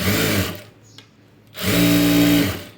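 A sewing machine runs a top stitch on cloth in two loud, steady motor bursts, separated by a quiet pause with a faint click.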